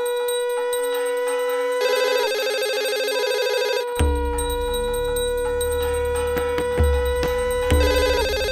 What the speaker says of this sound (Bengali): এই সময় আবার কার ফোন?